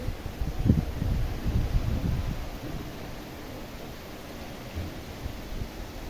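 Heavy rain pours down in a steady, dense hiss with a low rumble underneath, loudest in the first few seconds and then settling to an even roar, with no voices.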